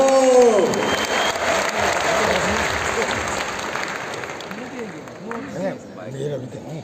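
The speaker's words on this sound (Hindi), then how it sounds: "एक बार जोरदार तालियां हो जाए" Event audience applauding loudly at a celebration gathering, dense clapping filling the opening seconds and gradually thinning, with a voice starting to speak over the fading claps near the end.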